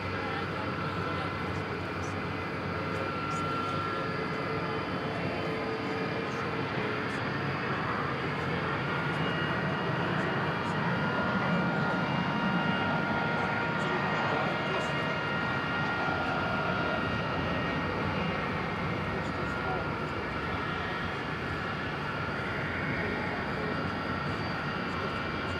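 A jet airliner departs runway 18 Left at DFW Airport, lifting off from the short intersection, its engine roar a steady distant rumble that holds for the full stretch.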